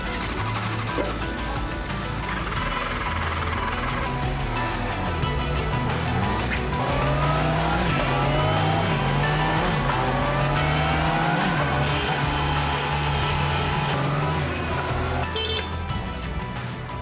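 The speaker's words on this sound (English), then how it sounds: "each finished motorcycle is fired up for the first time and ridden onto a special test platform" A newly built Honda CBR motorcycle runs on a special final-inspection test platform at the factory. The engine holds a loud, steady drone, climbing and falling in pitch as it revs, with no talk over it.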